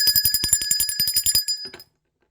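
A bright bell rings in rapid repeated strokes for about a second and a half, then cuts off into silence.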